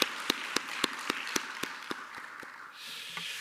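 A church congregation claps in a steady, even rhythm during a year-end Sunday worship service. The sharp, evenly spaced claps sit over a dense wash of crowd noise and fade slightly near the end.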